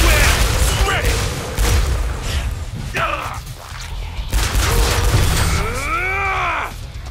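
Shotgun fire in the video game Killing Floor 2 during a support fight, heavy booming blasts mixed with game effects, thuds and a voice, dense and chaotic throughout.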